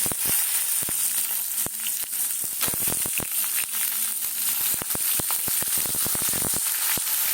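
Potato and pumpkin pieces frying in plenty of hot oil for a vegetarian dish, a loud continuous sizzle with sharp crackles and pops throughout, close and without voices.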